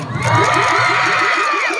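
A concert crowd at a festival cheers and shouts loudly in a dense, continuous roar with high whoops, sustained for a couple of seconds without a clear speaking voice.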